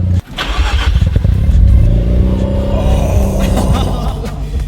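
A Mazda RX-7 rotary engine cranks, catches and settles into a loud, throaty idle with a slight rev, close by and steady.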